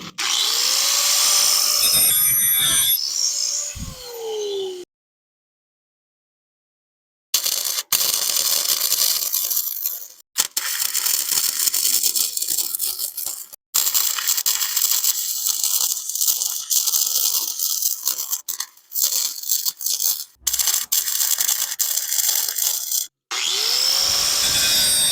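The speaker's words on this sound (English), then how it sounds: "It's a flux core welder." A flux core welder lays welds on a foot peg reinforcement for a Coleman B200RSV minibike, giving loud, harsh crackling bursts separated by short silent pauses between passes.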